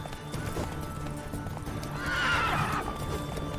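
In The Witcher III a horse's hooves clip-clop steadily, then the horse gives a loud, drawn-out whinny near the end. There is faint game background and no clear talk.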